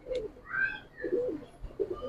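Pigeons in a breeder's loft, Giribaz and coloured birds, give a few low rolling coos in short bursts, close and fairly clear, with faint other bird sounds between them.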